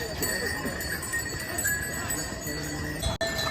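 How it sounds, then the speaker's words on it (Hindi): Bells jingling on pack horses along the mountain trail of the Kedarnath trek, with clip-clopping hooves amid steady outdoor ambience while people talk nearby. "बेल्स की आवाज़ सुनिए।"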